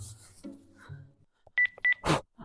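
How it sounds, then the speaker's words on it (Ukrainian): Telephone keypad dialing tones ring out in a domestic scene, two short bright beeps in quick succession followed by a burst of noise, after a few faint low murmurs. "на Люсі дзвонить"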